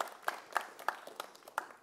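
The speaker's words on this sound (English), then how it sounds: "Let's first start with a big applause for Madelaine and her first" Sparse, faint applause from a small audience at a talk, a handful of distinct claps spaced irregularly across the moment, thin and distant rather than a full ovation.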